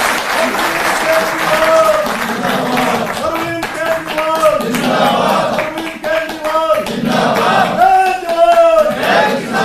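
Loud, sustained applause from a large crowd at a government event in Delhi fills the whole stretch, with a musical tone and some cheering mixed in.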